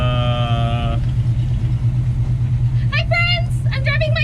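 A 1957 Chevy Bel Air with a transmission that has been slipping and an engine that has overheated, driving around town. A steady low engine drone runs throughout the interior, with voices and some chatter over it.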